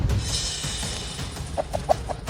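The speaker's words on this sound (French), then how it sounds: "Un poulet. C'est ce poulet." A chicken clucks in a short run of four or five close, soft clucks after a brief hiss of background noise, with no talk.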